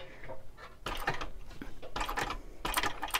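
A hand-cranked sewing machine stitches a fabric clutch, giving bursts of mechanical clattering and whirring in three or four short runs separated by brief pauses, close and moderately loud.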